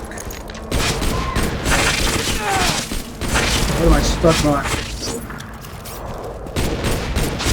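Grenade explosions and gunfire in Borderlands 2 pile up in a dense, continuous barrage of booms and cracks throughout, loud and close, while someone talks over the combat.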